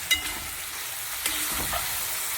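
Poppy seed paste frying in oil in a pan gives a close, steady crackling sizzle with a couple of light stirring taps, and no voices.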